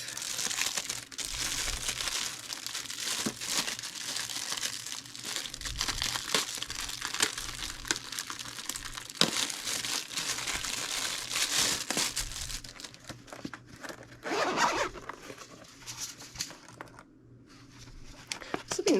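A Missouri Star Quilt Co zipper case is unwrapped from its packaging, with close, loud crinkling and crushing of wrapping in repeated bursts that thin out toward the end.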